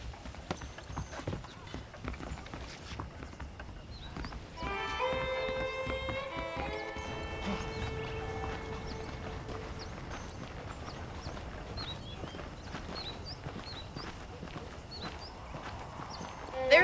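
Horse hooves clip-clop in a steady walking rhythm over gentle music in Red Dead Redemption, with occasional soft snorts; the hooves stay moderately close and even throughout.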